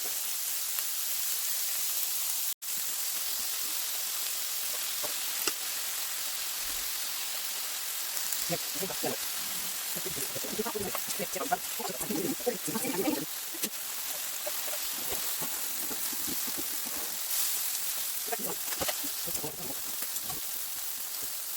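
Chicken fajitas sizzle steadily in a skillet, a continuous hissing crackle that persists throughout, with brief bursts of talk rising over it partway through.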